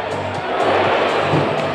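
Arena crowd at a Liga Endesa basketball game applauds and cheers a contestant in a court shooting contest, a dense, steady roar of clapping and voices with faint talk underneath.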